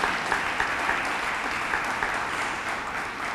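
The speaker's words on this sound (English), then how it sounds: "Let's give her a big round of applause." An audience at a Cinco de Mayo event applauds a board of education member, a dense, steady patter of many hands clapping for a few seconds at moderate volume.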